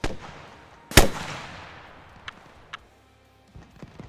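Rocket artillery fires in Arma Reforger: one sharp, loud launch crack followed by a long fading roar, then a few faint distant pops and thuds as impacts land, with no voices.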